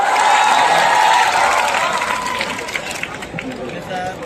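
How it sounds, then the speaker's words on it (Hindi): An audience at a college function applauds and cheers, the clapping loud and busy at first, then thinning and fading over a few seconds amid crowd murmur. "अपनी तालियों में कंजूसी ना करें, जोरदार तालियां हो जाए।"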